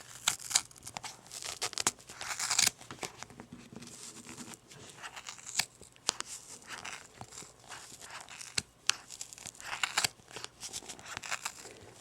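Scissors snip through yarn to trim a crocheted pom-pom, an uneven run of close crunching cuts and crinkling rustles, fairly quiet and without talk.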